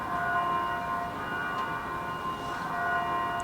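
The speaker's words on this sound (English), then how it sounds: "That's the bell." An outdoor bell rings with a sustained, steady metallic tone that hangs over a constant background rumble, moderately loud and unbroken throughout.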